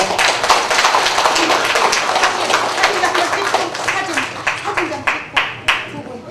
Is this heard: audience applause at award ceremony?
yes